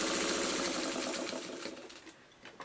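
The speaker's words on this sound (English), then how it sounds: "I'm quilting it into a spiral" A sewing machine quilts a tote bag block in a spiral, running fast and close in one continuous hum that eases off toward the end.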